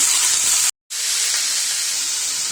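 Drumstick flowers with onions frying in a pan, a steady loud hiss and sizzle broken by one brief silence before resuming.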